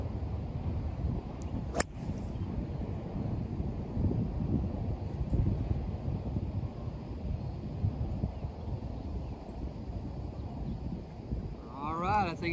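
Steady wind gusts buffet the microphone on an open golf course, a continuous low rumbling roar that swells and eases, with a brief sharp knock near the start and a faint birdlike chirp at the very end.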